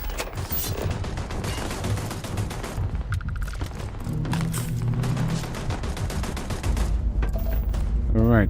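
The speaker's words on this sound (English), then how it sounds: "Now these guys are about to get roughed up by the turrets." Rapid bursts of automated turret gunfire in Starfield rattle steadily through the whole stretch, loud and close, mixed with mechanical clatter and booming impacts.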